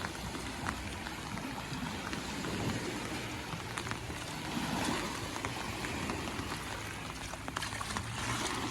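Light drizzle falling over water while fishermen work with a net, with a steady, fine patter of drops and soft hiss throughout, fairly quiet and without speech.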